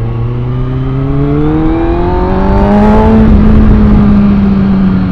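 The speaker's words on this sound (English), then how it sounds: "The engine delivery on my buddy's bike, Monsieur Man." A Kawasaki Ninja ZX-6R motorcycle engine pulls hard under acceleration while riding, its loud, close whine climbing steadily in pitch through a gear, then dropping back to a lower, sustained drone.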